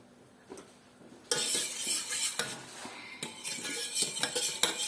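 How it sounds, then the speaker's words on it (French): A utensil scrapes and clinks against a pan while cornstarch is stirred over heat, starting after a quiet moment with repeated close scraping strokes and light metallic taps, fairly soft and without voices. "Du coup, on remue"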